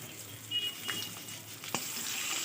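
Pre-fried potatoes dropped into hot oil with bay leaves for a Bengali fish head and cauliflower dish, giving a steady hiss of frying with a few clinks and a sharp tap near the end.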